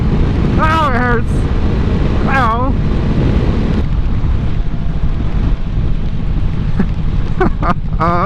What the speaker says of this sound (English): Well, it's raining and windy.